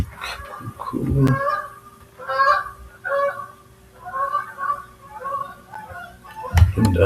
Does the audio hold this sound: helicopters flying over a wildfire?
no